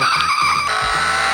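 A remote-control toy tractor-truck's speaker plays a loud electronic brake effect: a sustained, close tire-screech skid lasting over a second, with no talking.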